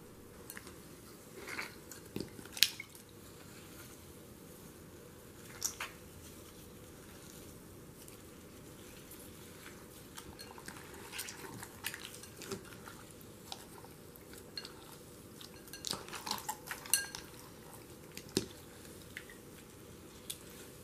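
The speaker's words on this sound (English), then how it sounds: "I'm going to try to mix the bath bomb into the slime" Bath bomb being mixed into slime in a bowl, soft squishy squelches, sticky pops and small crackles in irregular bursts, quiet and close, no talking.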